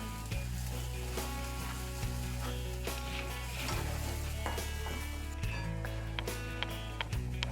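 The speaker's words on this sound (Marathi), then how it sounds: "मसाला आपल्याला चांगला तळून घ्यायचा तेल सुटेपर्यंत।" Ground spice masala fries in hot oil, giving off a steady soft sizzle with occasional clicks and scrapes of stirring, faint and with no voices.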